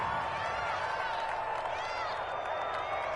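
Crowd applause and cheering in a PS4 football video game broadcast after a defensive stop forces a fourth down, a steady wash of clapping and crowd noise running continuously throughout.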